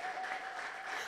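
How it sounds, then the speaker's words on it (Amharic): A church congregation claps together in praise, producing a brief, steady wash of applause that stays even and fairly distant throughout. "አጨብጭቡ ለጌታ ክብር ይሁን"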